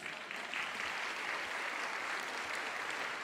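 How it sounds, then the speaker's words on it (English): An audience claps steadily through the whole stretch at an interview event, a soft, even wash of applause heard from some distance. "That deserves a round of applause."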